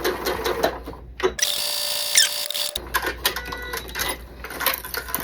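Sewing machine running a short burst while back stitching quilt squares at a quarter-inch seam, a loud, steady mechanical whir of about a second and a half cut off abruptly, with clicks and handling noises before and after.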